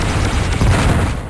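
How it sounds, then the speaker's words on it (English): Lava explosion in the video game Descent, a dense, loud low-frequency boom rolling continuously through a short burst with no voices. "lava explosions affect the enemies too"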